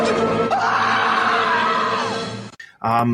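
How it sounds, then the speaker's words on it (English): At the end of an answering machine message comes a loud, sustained, wavering shriek that holds for about two seconds. It cuts off abruptly and is followed by a short burst of voice. "Leave your message at the sound of the shriek."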